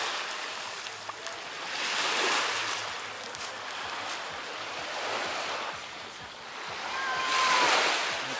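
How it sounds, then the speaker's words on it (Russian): Waves on a beach in Kemer, Turkey, rising and falling in slow, soft washes of surf with faint wind, heard from a short distance. "Это пляж отеля какого-то."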